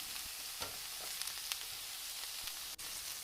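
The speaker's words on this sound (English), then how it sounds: "Next, I'm going to add a little bit of paprika and stir that in." Potatoes, peppers and onions frying in a pan as paprika is stirred in: an even, fairly faint hissing sizzle with a few light stirring scrapes and one brief sharp tap near the end.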